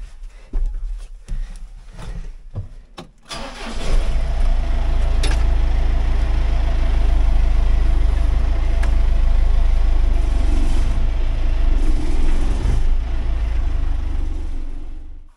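A diesel farm vehicle engine on a farm starts after a few clunks and handling noises, then runs with a steady, loud, close rumble as it drives out, with no talk.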